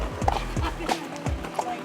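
A horse ridden on a trail walks with clear, evenly spaced hoof clops, close and moderately loud, three or four steps in under two seconds with light rustling between them.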